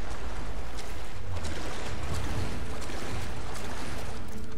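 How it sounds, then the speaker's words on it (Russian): Rushing, churning water fills the scene as the water level rises in Rise of the Tomb Raider, a steady, dense wash with a low rumble that continues without pause. "Так уж и быть, давайте поднимем уровень воды"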